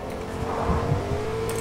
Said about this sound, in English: Someone's in the car.